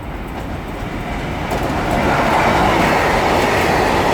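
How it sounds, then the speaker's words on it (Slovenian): A freight train rolls past on a railway line in Krško, Slovenia, making a loud, close, continuous rumbling roar with rattling wheels that swells as the cars pass, with no voices. "ko vozijo tukaj transportni vlaki proti Madžarski ali pa proti Zagrebu"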